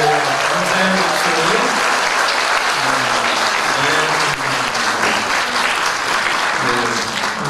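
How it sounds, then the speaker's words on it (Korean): A church congregation applauds a girls' high school student choir and its accompanist after their performance, with sustained, dense clapping filling the room for the whole stretch. "우리 학생들에게 감사의 박수"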